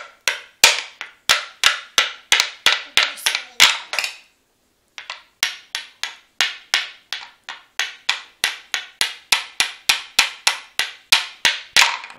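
Sharp hammer blows strike in quick, regular bursts, close and loud, with a brief pause before the steady pounding resumes.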